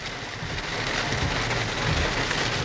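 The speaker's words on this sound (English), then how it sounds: "Oh, baby, it's raining here" Steady rain pours down in a dense, even hiss, with no pauses and no voices.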